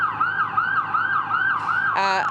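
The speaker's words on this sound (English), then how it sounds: "Certainly, you can hear an ambulance coming, Bakari and Lena, here on Bay Street." An ambulance siren on Bay Street wails in fast repeating up-and-down sweeps, loud and close, ending in a short horn-like blast, with no talking.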